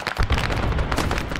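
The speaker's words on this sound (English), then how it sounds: "Airstrikes." Airstrike explosions in the Vietnam War game SOG: Prairie Fire land as a dense, rumbling burst of booms, loud and sustained with no talk.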